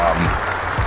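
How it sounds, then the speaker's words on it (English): A short burst of applause from a live show audience, brief and fairly loud, with a voice talking over it. "I'm going to do some round of applause for this shit."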